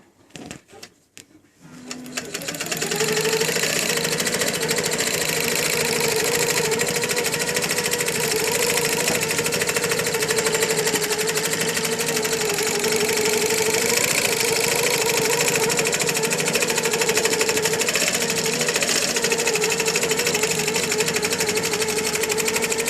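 A longarm quilting machine stitching across a quilt starts after a few soft clicks and settles into a loud, steady mechanical hum with a fast, even needle rhythm that runs unbroken to the end.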